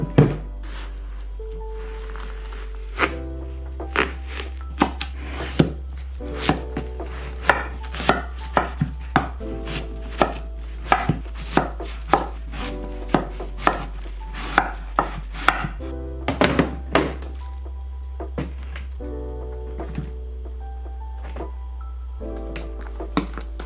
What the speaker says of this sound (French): j'ai un melon d'eau puis un cantaloupe à couper